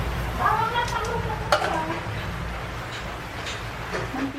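Bamboo shoots being sautéed with garlic in a pan, a soft steady sizzle with scraping stirring and occasional clinks of utensils against the pan.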